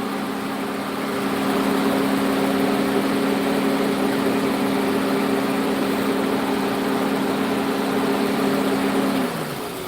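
A standard Toyota Camry 2.4 liter four-cylinder idles steadily and up close with a low, even hum for nearly ten seconds, then shuts off abruptly just before the end, with no talking.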